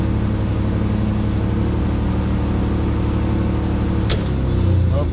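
A Ford Ranger engine idles high with a steady, loud mid-pitched drone and constant hum, holding even throughout, with a brief sharp click or scrape near the end.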